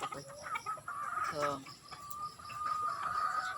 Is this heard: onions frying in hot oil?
no